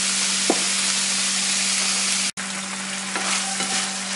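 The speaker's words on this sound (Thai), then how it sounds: "เราก็จะคั่วไปเรื่อยๆนะคะจนกว่าเต้าหู้นะจะสุกแล้วก็เป็นสีเหลืองๆนะคะ" Tofu and torn oyster mushrooms stir-fried in a pan for a northeastern Thai breakfast, giving a steady, close hiss of sizzling with a few scraping stirs and a brief break partway through.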